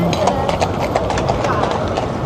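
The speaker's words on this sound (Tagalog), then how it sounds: "Talagang hinahataw pa yung kabayo." Horse hooves clip-clop steadily as a carriage is pulled along a London street on a summer day, mixed with loud outdoor bustle and nearby voices.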